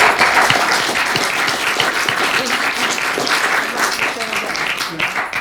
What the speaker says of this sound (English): if you'll a round of applause